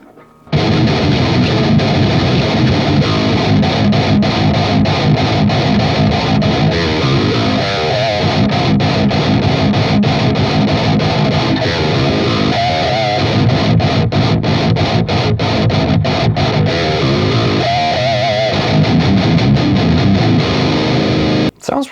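Electric guitar played through the Audio Assault AHM 5050 amp plugin, a loud distorted riff with rhythmic chugging and brief choppy gaps, held at a steady high level throughout.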